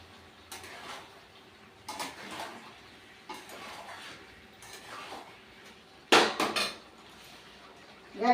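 Curry seasoned with garam masala being stirred in a pot, a metal spoon scraping and clanking against the sides in several irregular bursts, the loudest near the end, with quiet gaps between.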